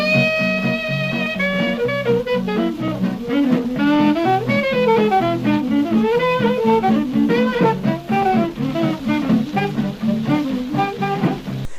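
A jazz saxophone runs a fast bebop line, close and prominent, with quick notes weaving up and down without pause and no voices.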